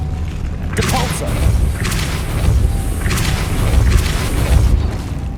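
Depulso spell impacts in Hogwarts Legacy land as a string of loud, booming, whooshing blasts, about four in quick succession, over a continuous roar of game sound.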